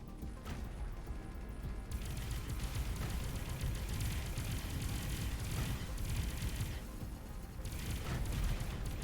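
Large cannons firing in the space game Avorion, a continuous barrage of deep rumbling blasts and booming impacts that swells and overlaps, heavy and sustained without pause.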